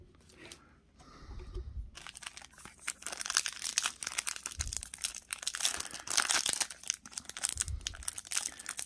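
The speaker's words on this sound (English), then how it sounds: "I'm having trouble opening these packs" Foil-wrapped 2021 Donruss Optic and Bowman Platinum baseball card packs being pulled open, with close, repeated crinkling and tearing of the wrapper in uneven bursts, a few soft thumps, and no talking.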